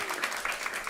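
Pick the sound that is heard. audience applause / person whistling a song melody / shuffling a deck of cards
audience applause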